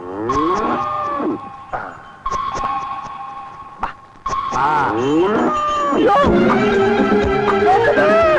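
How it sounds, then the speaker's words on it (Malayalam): A cow moos repeatedly while people try to catch it, long, loud, drawn-out calls close by, mixed with excited human voices, the lowing growing more continuous toward the end. "പശുവിനെ പിടിച്ച് എനിക്ക് വലിയ പരിചയമില്ല"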